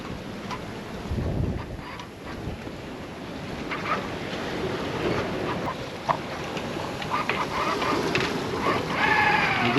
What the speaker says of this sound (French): avec la grande voile poussée, on prend les vagues juste par l'arrière.